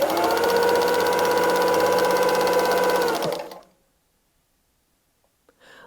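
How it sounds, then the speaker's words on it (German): A straight-stitch sewing machine stitches fabric for free-motion quilting, whirring in a fast, even run for about three seconds before stopping abruptly into near silence, with a couple of faint clicks after. "Unsere Maschine, die nur gerade nähen kann, näht eine Kurve."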